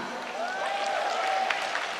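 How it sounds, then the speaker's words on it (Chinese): Concert audience applause rises briefly at a live pop singer's show, a soft spread of clapping from the crowd blended with an amplified voice. "大家掌声一下。"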